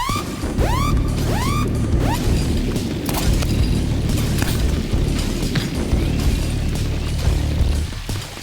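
Loud, booming grenade blasts in a video game, with sustained heavy rumble and crashing debris running throughout, and a few whistling, descending tones near the start.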